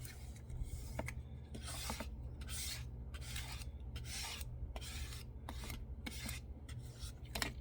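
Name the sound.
scraper smoothing glued paper pages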